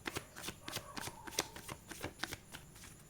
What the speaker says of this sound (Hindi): कार्ड्स को शफल कर देते हैं एक बार।